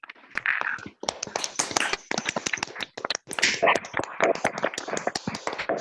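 Scattered applause from an online audience through open microphones at a spring school session, sparse uneven claps and taps in irregular bursts, close and somewhat thin, with brief gaps between clusters.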